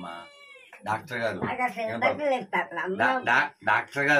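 A cat gives a single drawn-out meow at the very start, then a person talks continuously over the rest.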